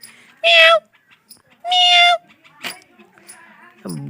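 A cat in a village home meows twice in drawn-out, close cries, followed by a short sharp sound and some faint voices and soft noises.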